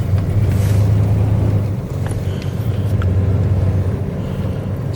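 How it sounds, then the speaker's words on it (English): A classic car with a tall rear end revs hard at full throttle from a standstill, bogging off the line; a loud, steady engine drone with strong low rumble fills the whole stretch, with no voices. "Full throttle again, bogs off the line."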